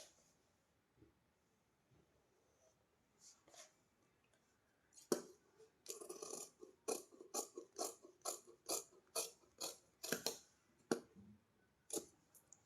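Scissors snipping through blouse fabric during tailoring, a few sparse cuts at first, then a steady run of close, crisp repeated snips.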